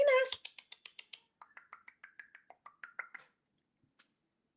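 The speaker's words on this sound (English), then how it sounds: "I don't know if you can hear my cat" A house cat meows repeatedly in a steady run of short, close calls, about a dozen in quick succession, then falls silent apart from one last faint chirp.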